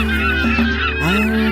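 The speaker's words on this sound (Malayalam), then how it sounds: "കടൽ പക്ഷികൾ ബോട്ടിന് പിന്നാലെ പറന്നു വരുന്നു." Seabirds follow a passenger boat on the water toward Elephanta Island off Mumbai, giving loud, close, nasal honking calls in quick succession with no talking.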